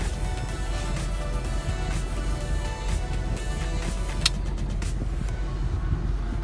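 A second-hand Volkswagen Passat idles and sets off for a drive, a steady low engine rumble with road noise inside the cabin and a couple of light clicks, no talking.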